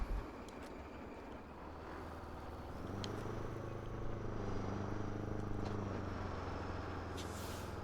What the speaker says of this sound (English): this sounds like a truck now